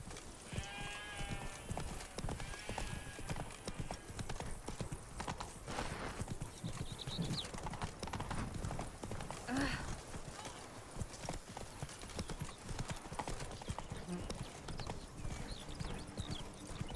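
In The Witcher 3 video game, the horse Roach trots with steady, rhythmic clip-clop hoofbeats throughout, moderately close, with a brief neigh near the start and faint game ambience around.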